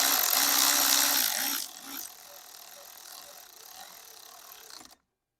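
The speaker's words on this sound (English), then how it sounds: "to use electric ratchet here" An electric ratchet whirs in a short, buzzing burst as it drives a 13mm socket on a starter bolt of a 3.5L Duratec engine, then stops, leaving quieter clicking and handling noise before the clip ends.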